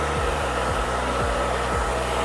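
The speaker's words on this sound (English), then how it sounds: "Just keep the air of the blow dryer moving, don't keep it too long in one spot, just keep it moving." A handheld blow dryer running steadily while drying curly hair, a constant close airy whoosh with a low motor hum that wavers slightly as the dryer is moved around.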